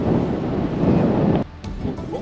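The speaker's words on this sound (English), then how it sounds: "It is way too windy." Strong wind buffets the microphone with a loud, rough roar that suddenly drops off, then gusts back more lightly.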